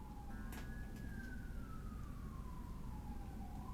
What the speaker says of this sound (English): Do y'all hear the siren?